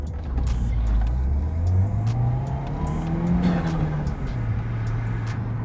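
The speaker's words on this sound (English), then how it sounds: "let's launch the car while we're here and there's no people" A Peugeot 207 GTI launches from a standstill, its engine climbing loudly through the revs with a brief dip at a gear change before pulling strongly again, heard close and alone.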